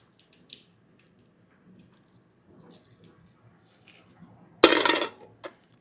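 A spoon peels the shell off a boiled egg in a quiet kitchen, faint scrapes and small crackles followed by one louder, sharp, wet rasp of shell coming away and a brief final click.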